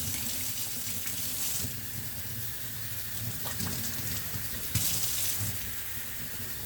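Tap water runs steadily into a container holding seeds set to soak, a continuous close splashing rush with brief louder bursts, heard alone without speech.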